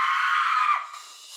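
A person screams inside a cave near Tobermory, Ontario, one loud sustained high-pitched cry that cuts off abruptly, leaving a faint echoing tail.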